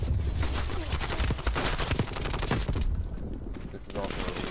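Rapid automatic gunfire from Call of Duty Black Ops Cold War rattles in dense bursts, loud and close, with a brief lull and scattered shots near the end.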